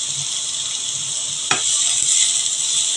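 Egg chow mein fries lightly in a pan with a steady, close hiss of sizzling oil, broken midway by a brief clatter as the noodles are stirred.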